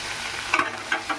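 Salted ivy gourd (dondakaya) pieces fried in a pan for a spicy Andhra fry, stirred so a soft constant sizzle carries three short scraping stir strokes.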